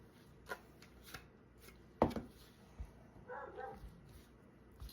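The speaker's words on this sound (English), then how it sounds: "Sorry if you hear my dogs barking." Dogs bark in a home kitchen, with a sharp bark standing out and a few fainter yips and thuds scattered around it, heard at a moderate distance beneath quiet cooking sounds.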